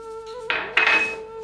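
Potato wedges being tossed with salt in a bowl, with a couple of clinking knocks against the dish over a faint steady background hum.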